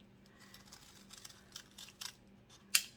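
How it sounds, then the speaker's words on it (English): Scissors cut a paper circle for lining a cake pan: quiet crinkly snips and paper rustles in a hushed room, ending in one crisp, louder snip near the end. "then I'm just going to take my scissors"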